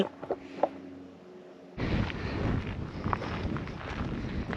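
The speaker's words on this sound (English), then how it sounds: "It's very windy right now too." Strong gusty wind roars into the microphone on a ridge in Roxborough State Park, Colorado, after a short calm stretch with a few faint knocks, then buffets continuously.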